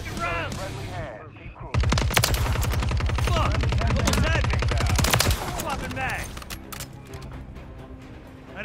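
Gunfire in Modern Warfare III multiplayer erupts as a dense, loud burst of rapid automatic shots lasting several seconds, with scattered single shots and game voices around it.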